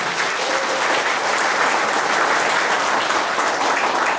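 Dense, sustained applause from the audience at a Black Yak 2019 launch ceremony, loud and even throughout with no pauses.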